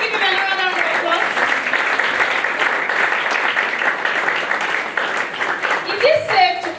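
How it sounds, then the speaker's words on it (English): Sustained audience applause at an alumni testimonial talk event, a steady dense wash of clapping filling the room, with a voice speaking briefly at the start and end. "Let's give him another round of applause."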